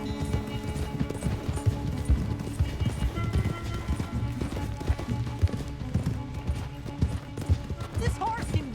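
A horse gallops at full speed during a race in Red Dead Redemption 2, rapid rhythmic hoofbeats pounding continuously up close with game music and ambient sound layered beneath.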